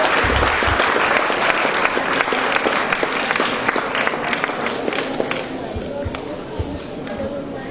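Thick, continuous applause fills a hall at a school's annual appreciation day, many hands clapping together at a steady level with some voices mixed in beneath it.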